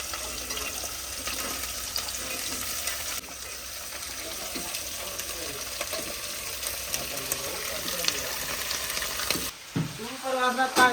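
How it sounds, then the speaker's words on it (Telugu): Broad beans frying in a little hot oil, a continuous loud sizzle with occasional stirring and scraping, close by, with a brief shift in the sound near the end. "ఇప్పుడు చిక్కుడుకాయలు వేసుకుంటున్నా."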